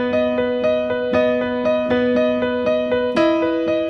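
Piano part from a song: a steady run of repeated struck notes over a held low tone, evenly spaced and close, shifting to a new chord near the end, with no talking.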